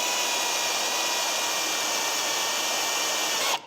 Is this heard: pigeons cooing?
no